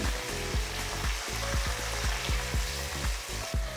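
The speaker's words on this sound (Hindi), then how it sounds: "इतने हमारा लहसुन जो है वो अच्छी तरह भून रहा है। हमने उसको फ्राई करने रख दिया है।" Garlic frying in a pan over a high flame, a steady close sizzle with crackling pops throughout, no talking.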